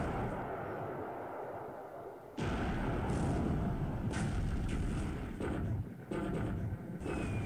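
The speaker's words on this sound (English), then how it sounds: "Big explosion." Explosion of a sinking destroyer in the War in the Pacific naval strategy game, a sudden loud boom that rolls into sustained rumbling with repeated blasts layered over a dense low roar.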